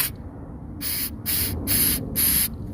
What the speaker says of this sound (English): Just give it a couple sprays like so.